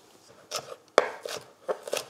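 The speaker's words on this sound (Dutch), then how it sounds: "Wij gaan het nu fijn snijden om onder in die oesterschaal te leggen." Samphire being finely chopped with a knife on a cutting board in a kitchen, a few crisp separate chops with short pauses between them, close and clear with no talking.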